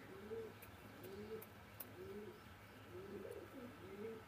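A Pakistani Teddy pigeon, a hen now sitting on eggs, coos in soft repeated low phrases at moderate distance, with faint chirps from other birds and a steady background hum.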